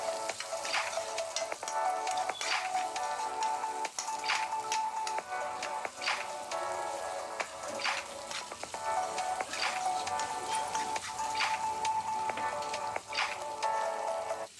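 Two chopped medium onions frying in a pan for prawn fry, giving a continuous soft sizzle with crackling pops and occasional stirring, steady and moderately quiet.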